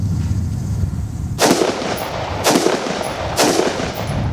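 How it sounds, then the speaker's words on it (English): Three sharp gunshots from an IWI X95 Micro rifle ring out at roughly one-second intervals on a range, each a loud broadband crack with a short decay, over steady background noise. "I'm going to deliver 3 more rounds so you can kind of see what happens."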